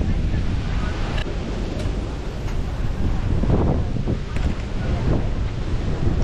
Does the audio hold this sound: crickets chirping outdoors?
no